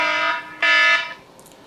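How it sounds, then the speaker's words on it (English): A harmonic electronic alarm beeps loudly from close by in two buzzing tones, the second louder and longer, then stops, with no one talking; it comes from a newly bought airsoft G&G RK74 rifle with a broken fire selector. "that's my alarm"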